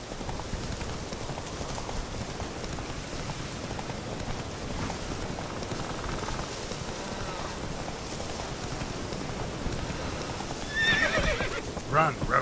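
Roach the horse galloping and neighing in the Witcher 3 video game, a steady rush of hoofbeats with whinnies and a burst of higher sounds near the end, under a rain-like wash and occasional speech.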